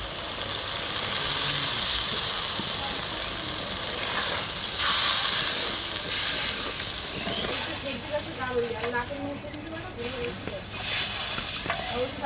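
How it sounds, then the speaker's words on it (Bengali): Spicy fish curry broth of puti and bele fish boiling after water is added produces a steady loud hiss and bubbling sizzle with occasional stirring, while a voice talks intermittently. "বন্ধুরা ঝোলটা ফুটে গেছে"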